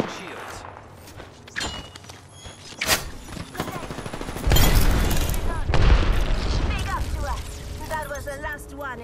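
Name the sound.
enemy gunfire in the video game Apex Legends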